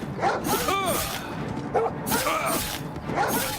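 A dog barks in the video game Oblivion Remastered, played on expert difficulty. Three short bursts of barking and yipping come at spaced intervals over a steady noisy background, with talk mixed in.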